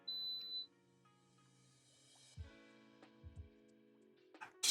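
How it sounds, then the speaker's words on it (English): A single short electronic beep near the start, fairly faint against a quiet room, followed by a few soft knocks and small movement sounds. "I heard a beep, and my head just immediately just like swung around."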